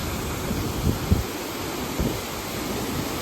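The Sarambu Ponglu waterfall in Toraja gives off a steady broadband roar of rushing water mixed with wind buffeting the microphone, loud and continuous with a few low thumps.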